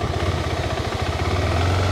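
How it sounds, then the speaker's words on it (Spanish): A motorcycle engine hums and throbs steadily as the clutch is let out and the bike pulls away. The sound is close and moderately loud, with no talking. "Listo, ya arranqué la moto."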